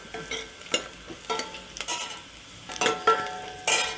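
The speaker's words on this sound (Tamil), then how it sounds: "இப்போ வெங்காயம் வதங்கிடுச்சு" Onions for a ground-masala tomato gravy sizzle gently in a pan while a spatula stirs and scrapes in repeated bursts, close and moderately loud, with no voices.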